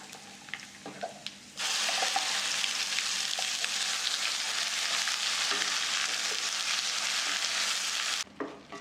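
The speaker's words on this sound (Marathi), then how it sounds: "वाटण चांगलं परतलेलं आहे" Ground spice paste (vatan) sautés in a pan with a loud, steady sizzle that starts abruptly, runs several seconds and then cuts off, with a few faint clinks around it.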